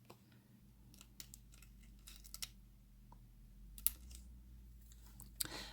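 Scissors snipping out a paper planner sticker, with a series of small, crisp clicks and cuts spaced irregularly, close and fairly quiet, with no talking.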